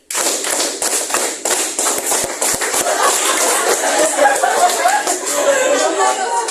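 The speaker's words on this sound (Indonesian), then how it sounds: "tepuk satu, tepuk dua, tepuk tiga, tepuk empat, tepuk lima" A classroom group claps along in a counting clap game, with a quick run of sharp, separate claps that merges into a steady wash of clapping, mixed with voices and loud throughout.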